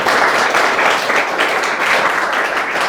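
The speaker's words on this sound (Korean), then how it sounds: "감사의 박수를 해주시는 것 같습니다." Steady applause from an audience closing a book-talk lecture, a dense continuous wash of many hands clapping at even loudness throughout with no voices over it.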